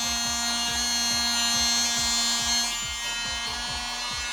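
A tiny handheld vacuum cleaner runs steadily with a thin, high electric whine and a rapid buzzing motor rattle, close and constant throughout.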